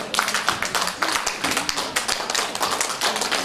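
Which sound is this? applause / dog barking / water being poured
applause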